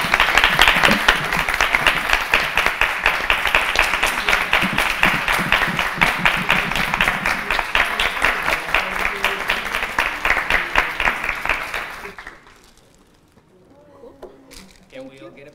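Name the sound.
final audience applause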